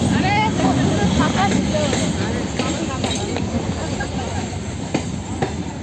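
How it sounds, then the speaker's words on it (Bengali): A train pulls into a railway station platform, its rolling rumble and wheel noise filling the scene, with people talking nearby over the steady din. "এই যে বসে থাকতে থাকতে এদিকে ট্রেনও চলে এসেছে।"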